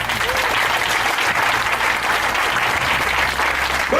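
A church congregation applauds together: dense, steady clapping from a large crowd that holds at a constant loud level throughout.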